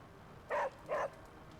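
Two short dog barks in a video game, evenly spaced and fairly faint, with no talking.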